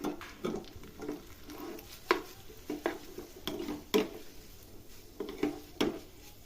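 Vegetarian spicy pasta being mixed with a little coriander leaf in a pan, a spoon scraping and knocking against the metal in irregular close clinks over a faint background hiss.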